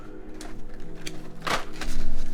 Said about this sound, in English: I was typing on my topper.